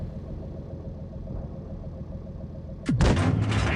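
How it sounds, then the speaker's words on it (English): A single sharp tank cannon shot from the E 50 in a tank video game booms late in the moment, cutting through a steady low engine idle rumble that runs beforehand and lingers after. "Put another shot through his lower plate."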